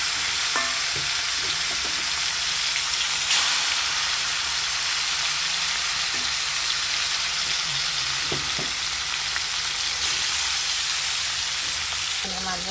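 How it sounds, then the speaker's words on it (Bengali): Amudi fish sizzles steadily in hot oil in a pan, with a dense, continuous frying hiss. Occasional stirring scrapes and clinks sit close in front, and no one speaks. "মাছটা ভেজে নিচ্ছি,"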